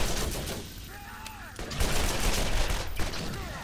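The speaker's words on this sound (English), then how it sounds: "Yeah, just keep firing at him." Gunfire in the Borderlands video game, with bursts of rapid shots and explosive cracks filling the mix at steady loudness, while a voice briefly talks over parts of it.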